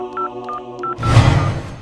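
Telephone keypad dialing tones beep in a quick run of four short, evenly spaced notes, followed by a louder burst of noise.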